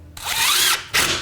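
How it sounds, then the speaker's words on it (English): A power drill drives screws into wood and plywood, its motor whining up to a steady high pitch for about half a second, cutting off, then starting again in a short burst. "we're going to be just screwing this wood to the bottom edge of the plywood, okay, with the screws all down the run"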